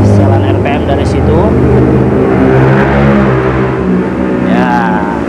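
Diesel engine of a fire hydrant pump running at high RPM, a loud close rumbling drone with steady harmonic hum and slight pitch wavering, with people talking over it.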